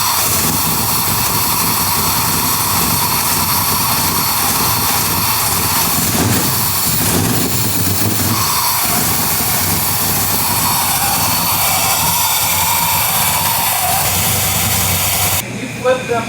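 Vehicle engine running steadily at a loud, constant roar with hissing, a fault causing lost RPM signal, the sound cutting off abruptly near the end with faint clatter afterward.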